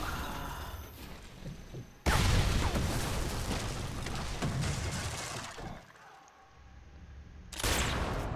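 Gunfire in Sniper Elite 4 destroys a German tank, with a loud burst of blasts and crashing debris starting abruptly and sustaining heavily for several seconds, then dropping before a second loud impact near the end.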